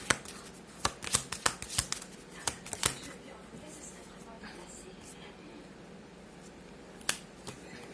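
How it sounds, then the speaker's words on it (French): Tarot cards being shuffled and drawn from a deck, a run of crisp flicks and snaps clustered early, then a pause and a few more near the end, heard close over quiet room tone with no talking. "je vais prendre 2 cartes de celui-là"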